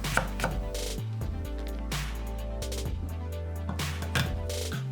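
A knife rapidly julienning carrot slices about 0.3 cm thick on a cutting board for spring cabbage kimchi, steady fast chopping taps continuing over light background music.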